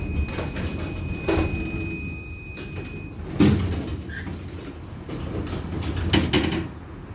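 Doors of a 71-623-02 tram slide and thud shut amid a low vehicle rumble and rattles, with a few clunks and a faint electronic tone early on.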